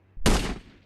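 A single short, loud burst of gunfire from a zombie-survival mode in the Indian Bike Driving video game rings out, then decays quickly with no voices.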